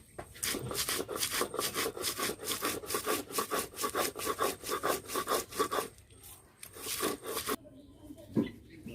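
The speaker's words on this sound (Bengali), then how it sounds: "চিংড়ি মাছের খোসাগুলো বেটে নেব।" Shrimp shells being ground into a paste with garlic for a pumpkin dish, a steady rhythmic scraping and grinding of coarse strokes repeated quickly for several seconds, then pausing before a few more strokes.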